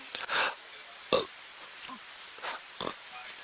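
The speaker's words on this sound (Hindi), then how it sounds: "पराठे की डकार थी" A man's burp after eating a large meal of parathas, chai and chickpeas: a few short, moderately loud guttural bursts spaced unevenly across a few seconds, with quiet gaps between.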